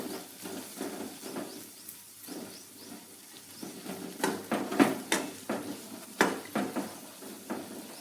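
Spices and vegetables sautéing in oil for matar khichdi, a soft sizzle under repeated clinks and scrapes of a spoon against the pan, irregular and close.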